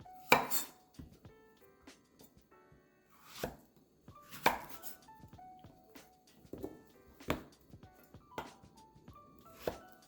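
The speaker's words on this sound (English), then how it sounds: "We are just going to cut it into chunks, approximately the same size that we did with the carrots." A knife chops zucchini into chunks on a cutting board, with sharp, uneven thunks spaced a second or so apart, loud and close, with faint background clatter between cuts.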